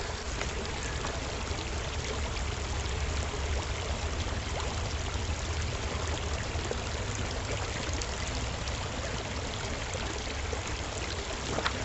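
Stream water is poured from an old dirty bottle into a Camelbak hydration bladder outdoors, giving a continuous close splashing and trickling gush that runs steadily without pause.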